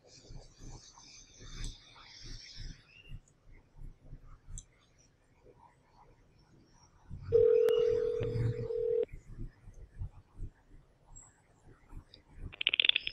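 Telephone dialing for a phone call, with a steady dial tone lasting a couple of seconds in the middle, set among quiet, soft whispery voices and scattered faint clicks.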